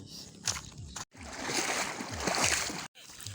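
Splashing and sloshing water as someone wades across a river on the way to find a water buffalo, with steady churning and short gaps of quiet, close and moderately loud.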